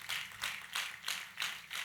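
A church congregation claps in a steady rhythmic beat, about two claps per second, fairly faint and distant, with no voices over it.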